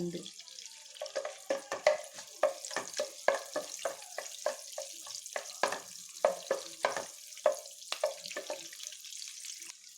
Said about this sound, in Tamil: பட்டர் நல்லா மெல்ட் ஆகிடுச்சு. இப்போ பச்சை மிளகாய் ஆட் பண்ணிக்கலாம்.